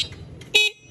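A single short motorcycle horn beep, bright and close, sounds once after some quiet mechanical clicking.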